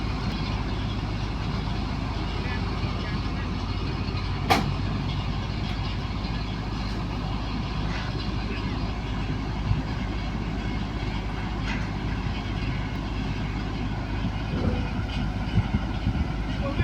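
A tractor towing a sugarcane trailer idles and rumbles steadily nearby in a sugarcane field, with a low, continuous drone, faint clanks and background activity.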